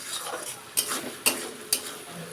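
A utensil stirs chicken cooking in a pot, three distinct scraping clinks over a soft sizzle, close and clear with no talking.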